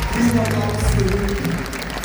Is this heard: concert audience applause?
yes